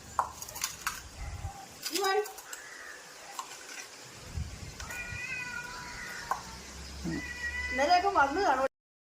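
A cat meows several times, rising and wavering cries, with people talking nearby and a few clinks in the background.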